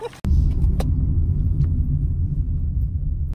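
A car pulls up for a ride-hailing pickup on the way to Perth's Optus Stadium: a close, steady low engine rumble holds for several seconds after a brief voice at the start.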